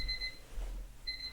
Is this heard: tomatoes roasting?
no